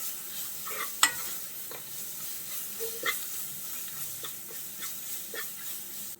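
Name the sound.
sautéing ground pepper and garlic paste in a pan for rasam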